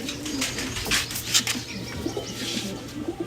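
Pigeons coo softly and repeatedly in a low, rolling murmur, with occasional brief chirps and light rustling, no voices.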